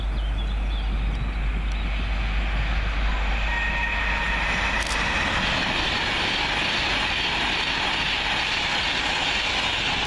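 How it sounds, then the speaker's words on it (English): An express from London Euston to Edinburgh Waverley runs through Leighton Buzzard station without stopping, producing a loud, steady roar of wheels and wind that holds at full strength throughout, with no voices. "Fly through working 9 Sierra 60 from London Euston to Edinburgh Waverley via"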